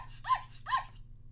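A small dog sound effect from a GarageBand loop library plays two short, high yappy barks in quick succession over a steady low electronic hum.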